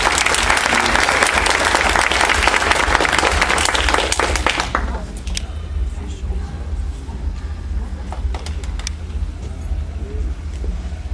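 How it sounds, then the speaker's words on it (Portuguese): An audience at a ufology lecture bursts into loud, dense applause that fades after about five seconds into scattered claps and room murmur. "Uma salva de palmas aí."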